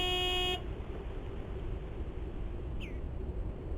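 Big white truck horn in a video game, one sustained steady honk that cuts off abruptly after half a second, followed by quiet ambient hiss and a brief chirp.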